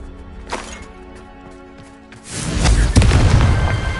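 Confringo, an explosive spell in a Harry Potter video game, erupts as a loud booming blast with a crackling roar that swells and lingers, following a few quieter pops and magical effects, with no talking.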